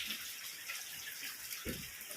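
Rainwater drains away across a farm garden after a heavy downpour, a faint, steady trickling flow with a brief louder splash near the end.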